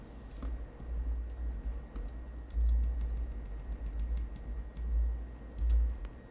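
Steady typing on a computer keyboard while writing simple HTML code, a close run of light clicky keystrokes with a few heavier thumps, alone without speech.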